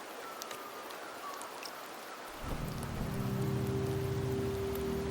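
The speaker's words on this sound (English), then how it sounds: "The rains in Septimont never seem eager to leave this season." Rain in the Septimont region of the Wuthering Waves video game: a faint patter of drops that swells halfway through into a fuller, steady downpour with a low droning layer beneath.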